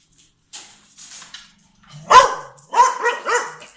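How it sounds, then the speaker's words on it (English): A dog barks in short yips and whimpering bursts, scattered and fairly close, directed at other dogs being let out at feeding time, with no talk. "she barks at them when they come out"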